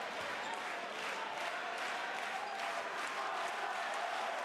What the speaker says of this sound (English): Look at the crowd cheering their team on here.